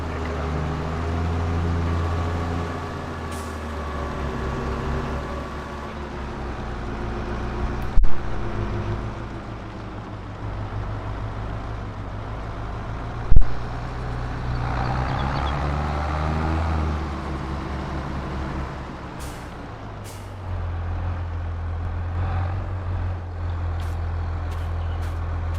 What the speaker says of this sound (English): Hearing the tractor idling here